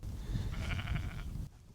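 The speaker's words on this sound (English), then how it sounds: "Apart from that sheep." A single sheep bleats once on a quiet Isle of Mull hillside, a wavering cry of about a second over a low, steady outdoor rumble.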